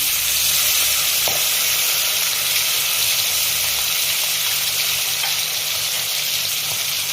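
Chilli paste hits hot oil for a raw hilsa curry and sizzles loudly and evenly right up close, a dense continuous hiss with one faint utensil tap near the start.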